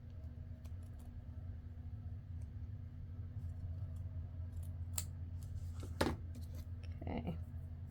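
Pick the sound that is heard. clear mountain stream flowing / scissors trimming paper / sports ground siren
scissors trimming paper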